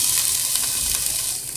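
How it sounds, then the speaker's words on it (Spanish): Garlic and onion sizzle steadily in hot olive oil, a bright, constant hiss close up with no talking over it. "Ponemos un poco de aceite de oliva y vamos a sofreír el ajo con la cebolla."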